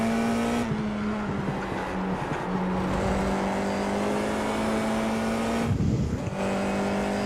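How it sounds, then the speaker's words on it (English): A Formula 4 race car in iRacing at Portimao roars steadily at high revs, with its engine note shifting through the corners and brief rough tire-scrub bursts during slides. "Big drift."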